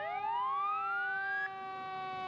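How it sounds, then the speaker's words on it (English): Albany Fire Department fire truck siren wails, rising in a long sweeping tone over a steady horn-like drone, loud and close, with no talking. "let him pull the bells and sirens"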